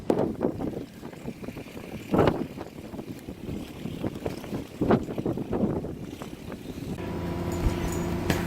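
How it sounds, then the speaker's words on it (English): Gale-force wind of 35 to 40 knots buffets a sailboat secured to a mooring ball off Man O War Cay, Bahamas, roaring steadily with repeated louder gusts and rumbling wind noise on the microphone, with a low hum joining near the end. "this is our second day of gale force winds all day"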